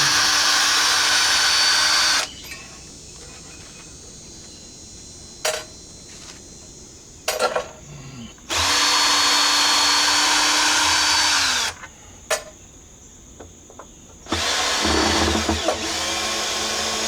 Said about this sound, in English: All right, let me go get my screwdriver.